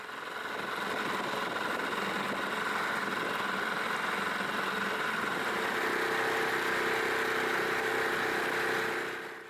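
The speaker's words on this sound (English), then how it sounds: "My outboard was given an easy time too, running on quarter throttle as I was in no hurry to go anywhere." A boat's outboard motor runs steadily at quarter throttle on Skye's Inner Sound, a continuous even drone holding constant for the whole stretch with no talk over it.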